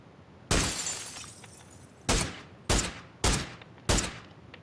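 Five sharp, loud gunshots in PUBG, the first one alone, then four in a quick, evenly spaced run, each with a short, decaying tail over quiet background.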